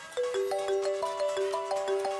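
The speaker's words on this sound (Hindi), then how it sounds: "तभी अचानक ही आहान का मोबाइल बज उठा।" A mobile phone rings late at night with a bright, repeating electronic melody of steady rising tones, loud and alone.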